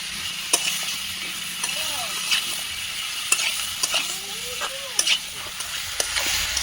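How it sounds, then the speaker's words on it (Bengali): Stirring cumin, coriander and chili paste into ash gourd in a pan: a continuous sizzle with repeated scraping strokes of a spoon against the pan, close up. "দিয়ে সবটিকে আবার ভালোভাবে নেড়ে দেবো।"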